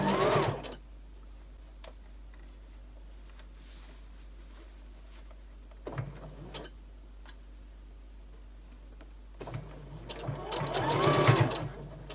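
A sewing machine stitches through four layers of quilting cotton and two of soft and stable, with short bursts of rapid ticking stitches separated by quieter pauses, close and loud near the end.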